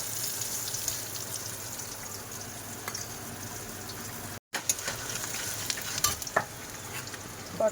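Pointed gourd slices (potol bhaja) sizzling in hot oil in a pan, a continuous close crackling hiss with occasional stirring clinks and one brief break, heard alone without speech.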